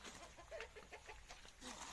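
Chickens clucking on a small self-sufficient farm, a few soft, short clucks close by over a faint noisy background, very quiet overall.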